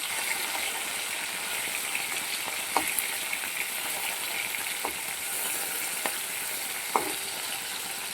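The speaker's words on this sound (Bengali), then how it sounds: "খুব বেশি ভাজবে না সবসময় ইলিশ মাছ হালকা করেই ভাজতে হয়" Hilsa fish pieces fry in hot oil with a steady, even sizzle, broken by a few light clinks of a utensil against the pan.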